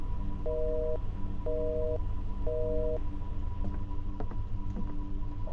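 A telephone rings in a horror stealth video game set inside a house, three evenly spaced electronic double-tone bursts over a steady background hum, followed by scattered clicks and knocks.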